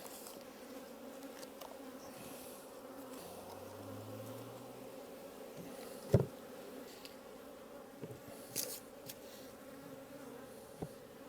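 Honeybees in an opened hive during a split, as fondant is laid over them, give a steady close droning hum, with a few faint knocks and clicks but no voices.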